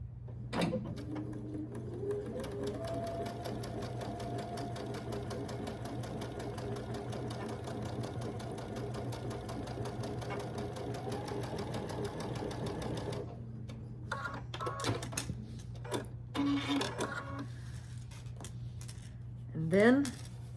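A sewing machine stitching quilt squares together runs steadily in a fast, even whir for about thirteen seconds, then stops and starts in short bursts with handling noises and a voice speaking nearby.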